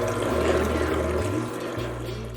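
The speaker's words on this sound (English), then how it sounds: "The blended cashew milk pretty much flowed straight through this sieve" Blended cashew milk pours through a sieve in a brief, continuous liquid flow, close and fairly loud, with a low hum underneath and no talking.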